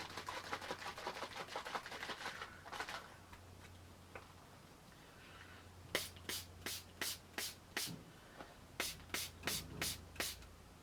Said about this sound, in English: I'm going to try and colour mine a little bit using my spray